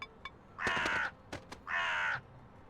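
A crow caws near a rocket in the video game Elroy and the Aliens, giving a few short clipped calls followed by two long, loud, harsh caws, close by and alone.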